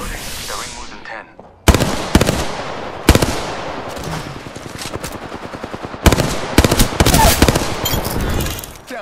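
Gunfire in the video game Apex Legends: loud bursts of rapid automatic fire and single shots crackle in several clusters, with a voice heard over the shooting.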